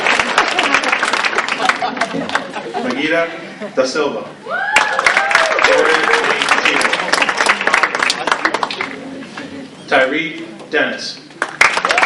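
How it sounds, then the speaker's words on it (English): Audience applause at the 2014 Share The Dream Banquet, a steady wash of clapping from the banquet crowd continuing under a voice reading out names, briefly dipping around the middle before swelling again. "It's okay to clap. It feels a little dead in here, so let's clap."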